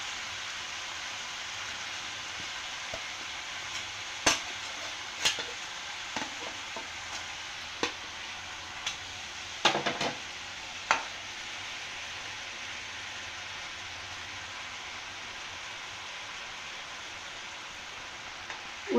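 Fried katla fish pieces sizzle in a pan with mustard seed, an even crackling hiss throughout, punctuated by occasional sharp knocks and clatters of a utensil; no talking.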